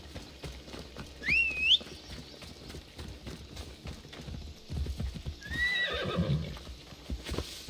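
Horse hooves clip-clop steadily in Assassin's Creed Odyssey, with two high whistling neighs, one early and one near the end, over a busy game ambience at moderate loudness.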